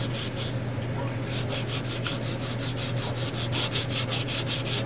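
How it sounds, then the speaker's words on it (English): A hand sanding board rubs down resin on an RV-6 homebuilt aircraft part in a steady, continuous rasping scrub with a faint regular back-and-forth rhythm, close and loud over a low hum. "I'm gonna go ahead and the sanding board here and sand this down"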